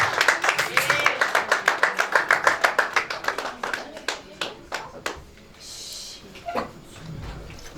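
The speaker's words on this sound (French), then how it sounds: "Merci d'acclamer, de l'encourager." A church congregation claps in a fast, steady rhythm to cheer on a speaker, loud and close, then the clapping thins out and stops, leaving quieter scattered sounds.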